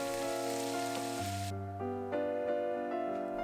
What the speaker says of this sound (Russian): Отправляю перец в сковороду к овощам и обжариваю все вместе еще 2-3 минуты